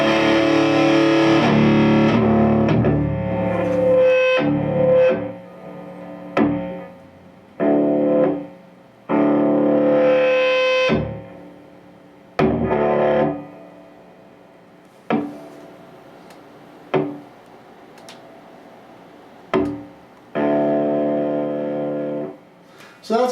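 Distorted electric guitar through a Boss NS-2 noise suppressor: loud chords and sustained notes that cut off abruptly into near silence, with short bursts and gated pauses repeating as the threshold changes.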